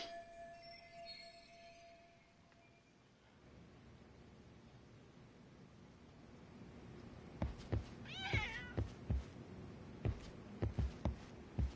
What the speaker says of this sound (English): Is there a cat in here?